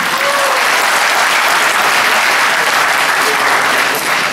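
Audience at a university event breaking into loud, sustained applause, dense steady clapping from a large crowd filling the whole span with no voices on top.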